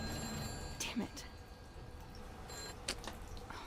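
A telephone rings in the video game What Remains of Edith Finch, with a couple of short, faint bell bursts sitting under ongoing spoken dialogue.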